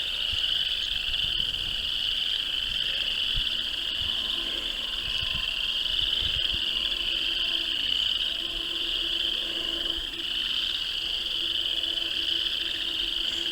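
A dense chorus of frogs croaks continuously near a pond, a steady trilling wall of sound at moderate distance with faint insect chirps mixed in and no pause for the whole stretch.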